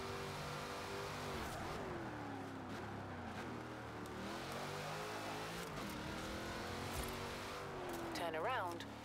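A van engine in the Forza Horizon 4 racing game starts and keeps running with a steady mid-pitched drone and shifting revs, heard under excited talk and game sounds throughout.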